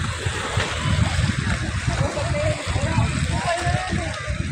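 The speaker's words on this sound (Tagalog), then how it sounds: "Yan po yung mga barko, mga kapising." Water sloshing and lapping around boats on Manila Bay, a steady broadband wash with low rumbling from hulls or motors, continuous and fairly loud with occasional splashes.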